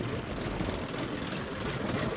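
A tractor engine running at a steady, low rumbling idle, constant and fairly close, with no voices.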